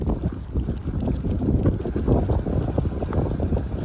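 Wind blows hard during a controlled burn in the countryside, a steady close rumble and buffeting of gusts against the microphone with no break.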